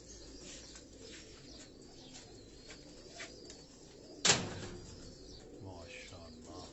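Pigeons coo softly amid faint ambient chatter, with a sudden sharp burst of noise midway that quickly fades back into the low background.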